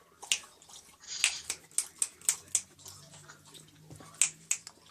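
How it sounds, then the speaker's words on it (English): A dog laps water from its bowl indoors, a rapid run of sharp, wet clicking laps close to the microphone, irregular in rhythm and fairly quiet overall. "My dog is drinking his water."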